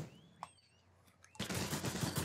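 Gunfire in the shooter game CRSED. A couple of faint isolated shots come first, then a loud, sustained burst of rapid automatic fire takes over the final second, close and dense.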